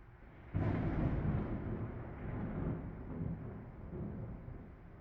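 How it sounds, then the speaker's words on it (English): Thunder from an approaching storm rolls in as a sudden deep rumble that swells loudly, then slowly fades into a long, low, distant grumble with no voices over it. "that was thunder"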